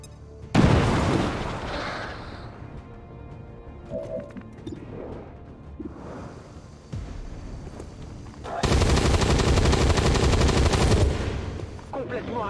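Bombs detonating and automatic gunfire in XCOM 2: War of the Chosen, with heavy booming blasts and rapid rattling bursts that build to a sustained, loud barrage near the end.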